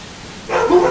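A dog at a kennel lets out one short bark after a quiet moment, close and fairly loud, alone with no voices.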